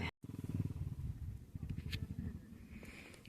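A power tiller engine runs close by with a low, throbbing diesel chug that holds steady after a brief cutout at the start.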